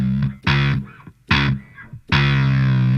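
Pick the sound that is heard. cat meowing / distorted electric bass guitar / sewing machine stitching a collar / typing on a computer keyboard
distorted electric bass guitar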